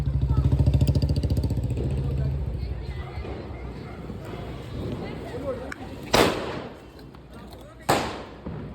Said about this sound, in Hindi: ये अब चल रहा है स्काई शॉट